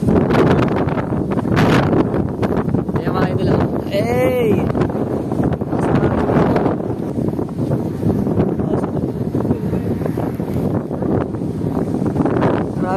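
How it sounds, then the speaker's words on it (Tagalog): Strong wind buffets the microphone throughout with a steady broadband roar, while people talk and call out over it. "Ayan, lakas ng hangin."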